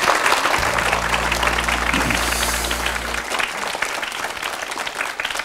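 Audience applause at a children's talk show in Cambodia on sanitation and handwashing: sustained, dense clapping throughout, with a low steady hum underneath for the first few seconds.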